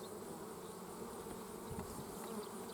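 Honeybees buzz at their hive in a dense, steady hum, many insects droning together at close range, quiet overall with no speech.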